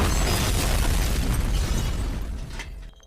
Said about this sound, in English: Self-destruct coin slot has been activated. 10 seconds till detonation.